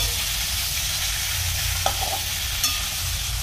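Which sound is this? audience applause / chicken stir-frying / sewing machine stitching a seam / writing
chicken stir-frying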